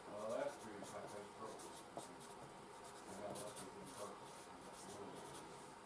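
A pen scratches steadily while writing a label on a paper envelope, a faint, close rubbing with short strokes and brief pauses, under quiet talk.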